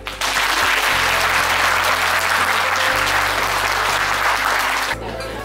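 Loud, dense applause from a crowd at an inauguration and New Year gathering in Busan, sustained clapping that fills the clip and drops off slightly just before the end.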